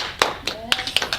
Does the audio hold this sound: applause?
yes